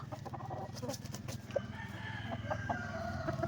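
A seven-month-old Asil rooster crows in a drawn-out call near the middle, over a steady bed of nearby clucking and farmyard chatter from other chickens.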